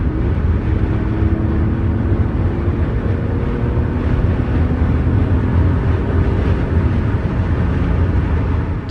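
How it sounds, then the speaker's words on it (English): A 1992–2000 Lexus SC 300/SC 400 accelerating hard with the transmission downshifting, a loud, steady engine roar building under load for several seconds, no talking. "Floor the gas pedal by pushing it down all the way to the floor. The transmission should downshift almost instantaneously."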